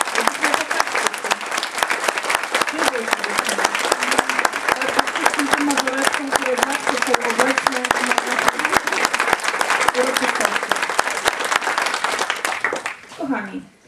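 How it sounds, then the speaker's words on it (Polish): Sustained, loud applause from a concert audience for majorettes performing with a youth wind orchestra at a carnival concert, dense clapping with crowd murmur throughout before fading out at the end. "duże brawa"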